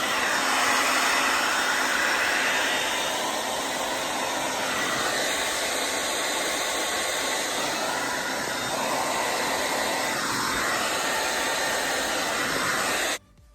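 A hair dryer blows on curly hair in a steady, loud, close whoosh with a high whine, its pitch shifting slightly as it moves, running for about thirteen seconds before cutting off.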